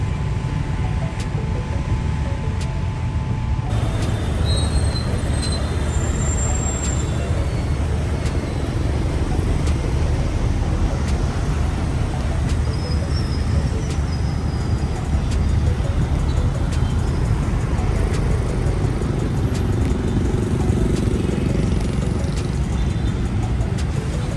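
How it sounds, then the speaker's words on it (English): An open top bus drives along with a continuous rumbling road and engine noise at an even, moderate level throughout. "The open top bus, perfect for sightseeing."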